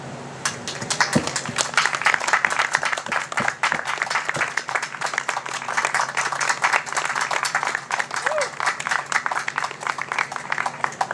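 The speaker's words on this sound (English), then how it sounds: "join you as we give a moment of applause for our men and women in uniform" An audience at a community Fourth of July gathering in Groveland gives sustained, loud applause for police and fire personnel, with dense clapping running the whole stretch.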